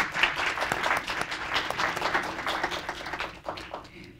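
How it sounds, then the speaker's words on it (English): An audience at Howard University applauds Professor Nikole Hannah-Jones at an event marking Black History Month, a full, sustained burst of many clapping hands that swells and ebbs before tapering off at the end. "let's give her a round of applause"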